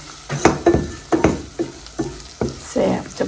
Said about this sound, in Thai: เบคอนแห้งแล้วเนาะยายวีเอาพริกลงไปผัดต่อเลยจ้า ผัดเลย ผัดหอมทุกคน